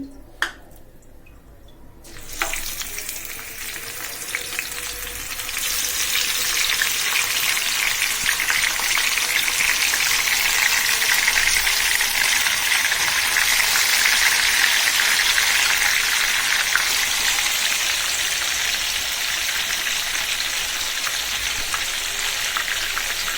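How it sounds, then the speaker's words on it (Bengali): Marinated rohu fish hits hot oil and fries with a loud, continuous sizzle that swells after a few quieter seconds and holds steady. "আমি মেরিনেট করে রাখা রুই মাছগুলো একটু তেলে ভেজে নিচ্ছি"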